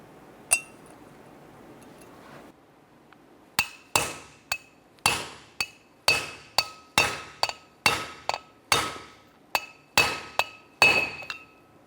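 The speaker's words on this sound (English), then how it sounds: "Hear a clear, distinctive sound that that race has now bottomed out" A hammer taps a bearing race into a Chevy S10 front wheel hub: about fifteen sharp metallic strikes, each with a bright ringing tail, coming in a steady rhythm after a couple of isolated taps.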